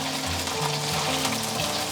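Chicken thigh meat deep frying in hot oil over medium heat, a steady dense sizzle and bubbling that is loud and close, continuous with no talking.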